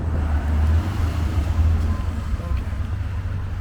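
A 2021 Lexus RC F Fuji Motor Track Edition drives along with a loud, steady low engine rumble and road noise throughout, heard from inside or close by.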